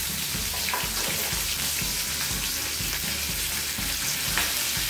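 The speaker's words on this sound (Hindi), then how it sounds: "सरसों हमारा तड़कने लगा है" Mustard seeds crackle and pop in hot oil while tempering for Sindhi dal pakwan, a dense continuous sizzle with scattered sharp pops, close and steady throughout, no voices.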